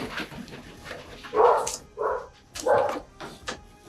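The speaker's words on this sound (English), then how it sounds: "I do not know what the dogs are freaking out about." Dogs bark in a handful of sharp, agitated bursts mixed with whimpers and yips, fairly close and loud against a quiet background, with no talking.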